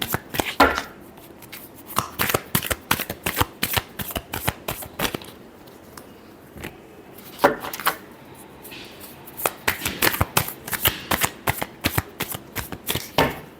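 Tarot cards are shuffled by hand in rapid riffles and crisp slaps, a busy rhythmic flutter with a brief lull in the middle before picking up again, close and clear.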